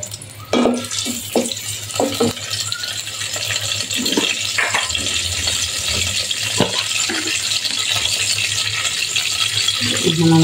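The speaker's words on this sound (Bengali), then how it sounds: "এখন আমি গোটা গরম মশলা দিয়ে দিলাম, তেজপাতা, দারচিনি, এলাচি দিয়ে একটু ভাজব।" Whole spices (bay leaf, cinnamon and cardamom) drop with a few clicks and clatters into hot oil, then settle into a steady, loud sizzling hiss.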